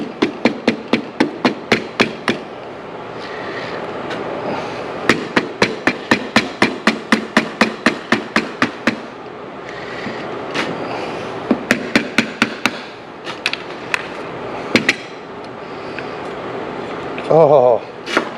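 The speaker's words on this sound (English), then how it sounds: "a rawhide hammer." A rawhide hammer knocks repeatedly on parts of a 2006 Honda TRX450R quad, sharp close taps in quick runs with pauses between bursts, some light handling noise in between.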